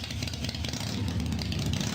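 A Harley-Davidson motorcycle engine idles in a steady, deep, throbbing rumble, loud and close and heard alone.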